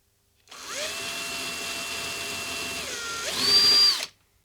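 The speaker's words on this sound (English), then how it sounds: "I take my step bit again, and I just use the number 8 to clean up the edge of this cut so that it's not so sharp" A step drill bit deburrs the edge of a cut hole in a metal pedal enclosure, giving a steady whirring drone for about three seconds that rises in pitch and grows louder near the end before stopping.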